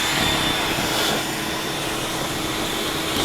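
Steady, loud vacuum cleaner roar sucking dirt out of a BMW E90 part, a constant broadband whoosh with no pauses and no talking.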